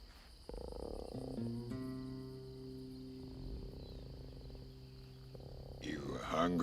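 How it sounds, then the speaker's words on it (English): Tree frog croaks in a swampy setting from an animated film, steady tonal calls layered over a constant high insect-like drone, with music-like sustained tones throughout. "Tree frog."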